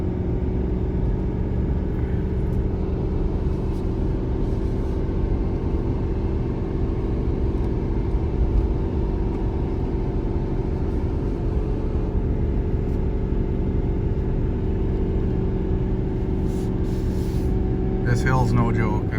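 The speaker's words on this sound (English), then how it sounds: "Oh yeah, you can tell this truck's working." A 2019 Ford F-450 Limited pickup labors uphill towing a heavy 41,000 lb combined load, its engine giving a steady, loud droning rumble inside the cab throughout.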